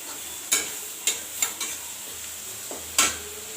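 Masala spices with coriander powder fry in a pan while a spoon scrapes through them in a few sharp, separate strokes over a soft, low sizzle.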